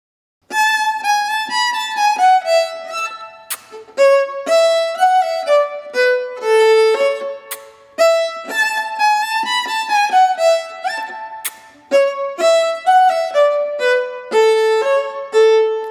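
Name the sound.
fiddle with kiss sounds in rests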